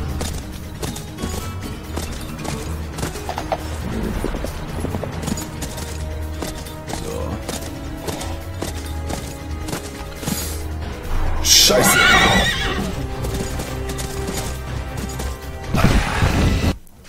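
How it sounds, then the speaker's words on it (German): Hooves clop steadily in the Call of Juarez western video game, with a brief crash and a later burst of sound like a horse's whinny, while someone speaks German over the game audio. "hier steht auch ein Pferd"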